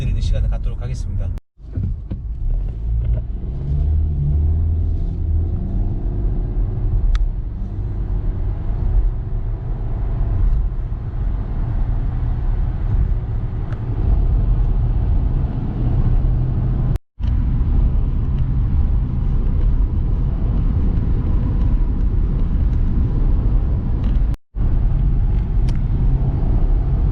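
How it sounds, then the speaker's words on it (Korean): A Volkswagen Jetta accelerating hard on a test course, a loud, steady engine and road rumble held for nearly half a minute, broken by a few brief cuts, with a voice talking over it. "제타의 이제 가속을 이제 마쳤습니다"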